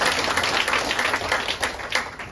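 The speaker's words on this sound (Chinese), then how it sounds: "我们先给东森掌声鼓励一下" An audience at a Taipei business-recruitment seminar claps for Dongsen, giving a dense, fairly close patter of many hands that holds steady for a couple of seconds.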